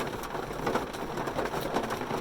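Rain falls in Mississippi woods during a turkey hunt, a steady, dense hiss of drops that stays loud and even throughout with no voices.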